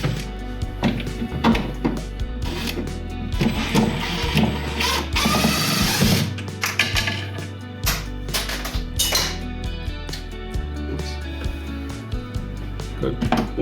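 Screws being backed out of a cabinet face frame during a cabinet modification, heard as close, repeated ratcheting and clicking mechanical bursts with low thumps, with people talking intermittently.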